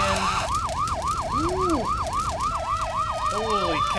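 A fire engine siren in the video game Farming Simulator wails in a fast, repeating yelp, loud and close, with a second lower siren tone briefly joining, and no talk.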